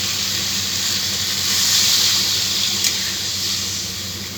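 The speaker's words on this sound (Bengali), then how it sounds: "সামান্য একটু জল দিয়ে দিই।" Water poured onto fried spice masala for potol dolma sets off a loud, sustained hiss and steam burst that swells and then slowly eases, close by, with no voices.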